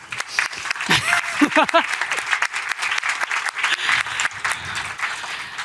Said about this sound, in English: we give him a warm round of applause